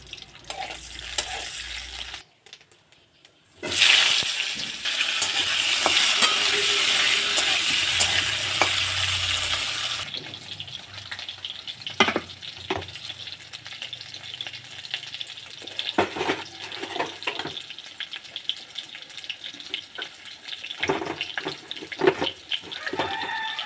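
Egg curry stirred in a pan with a spatula over a gas flame: loud, continuous frying sizzle with scraping stirs, a rooster crowing in the background, and no speech.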